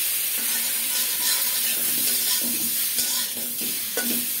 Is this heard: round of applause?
no